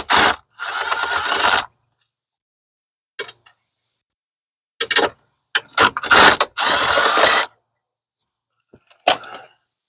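A ratchet loosening 10 mm bolts on the steering wheel angle sensor of a 2009-2015 Chevy Silverado gives loud, close bursts of rapid clicking, separated by pauses and a few faint knocks.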